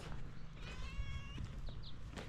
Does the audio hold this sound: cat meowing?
yes